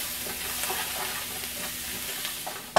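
A spice mixture with turmeric being stirred in a hot pan for North Indian samosa filling, a continuous close sizzle with scraping stir strokes and a sharp knock at the end, no speech.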